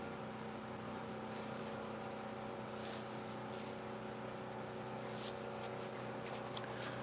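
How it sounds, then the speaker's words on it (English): A tractor engine runs steadily nearby, a continuous low mechanical drone with a constant hum throughout and faint hissing bursts over it, with no talk. "Can y'all hear the tractor or can you hear me?"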